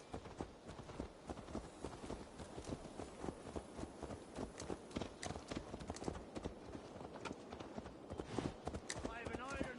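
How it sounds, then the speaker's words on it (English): Horse hooves clip-clop in a steady walking rhythm through Assassin's Creed Valhalla, close and continuous over busy ambient noise, with a voice speaking over the hoofbeats. "Let's return the horse."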